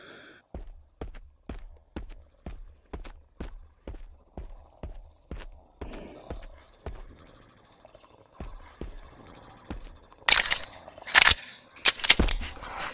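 Rapid gunfire with fire bullets in the VR game Island 359: a steady train of sharp, evenly spaced shots, roughly two per second, then louder, denser bursts near the end, with no talking.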